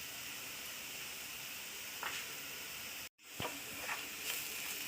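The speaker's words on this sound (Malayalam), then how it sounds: "മസാല എല്ലാം നല്ലതുപോലെ വഴറ്റിയെടുക്കുക." Spice masala with pepper, turmeric, garam masala and chicken masala powder sautés in a pan with a steady, quiet sizzle and hiss, broken by a few soft stirring scrapes and a brief dropout.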